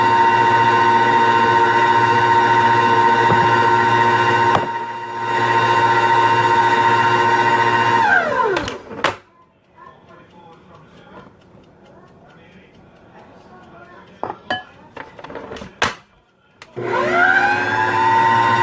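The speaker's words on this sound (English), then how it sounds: "It's literally flying out the mixer right now." A stand mixer beats powdered sugar frosting with a steady, loud motor whine, cuts out briefly near the middle, then starts again toward the end.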